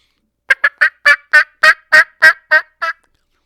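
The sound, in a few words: diaphragm turkey call imitating a turkey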